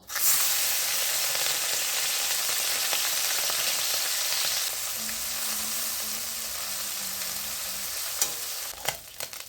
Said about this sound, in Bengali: এখন আমি মাছগুলো ভাজবো